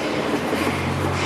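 A subway train rumbles steadily at Wellesley station in downtown Toronto, a loud continuous roar with a low droning hum and no talk.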